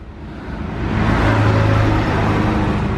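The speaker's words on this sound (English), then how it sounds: "just a wagon going past" A road vehicle rumbles past nearby, its low engine noise swelling over the first second and holding steady, loud and close.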